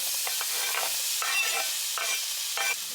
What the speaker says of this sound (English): I'm gonna add my onion in.